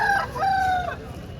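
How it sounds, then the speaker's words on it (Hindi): A fighter rooster at a Bastar tribal market gives one clear, loud crow of about a second, its rising then held call close by and fading into faint market background. "1500 का फाइटर मुर्गा है भाई"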